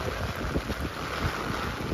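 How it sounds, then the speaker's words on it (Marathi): Strong monsoon wind in Mumbai roars in a steady, loud rush, buffeting the microphone close up without a break and with no voices. "सुटलंय वार लय जबरदस्त बाई."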